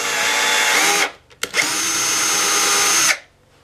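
A power drill bores a shallow hole while an electric washboard is being built: a loud, steady high whine runs for a second, cuts out with a brief stutter, then resumes for almost two seconds before stopping.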